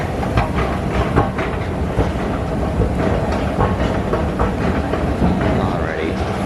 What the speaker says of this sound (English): The A train will be my chariot today.